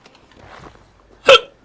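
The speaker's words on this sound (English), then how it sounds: "I have hiccups." A single sharp hiccup bursts out near the end, loud and close, after a few seconds of quiet low murmuring.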